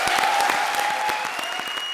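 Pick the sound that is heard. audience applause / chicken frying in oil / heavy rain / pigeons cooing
audience applause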